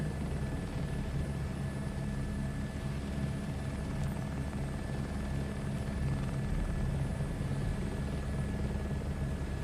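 A helicopter in Microsoft Flight Simulator 2024 makes a steady, continuous rotor and turbine drone with a thin high whine, even and unchanging, with no voices over it.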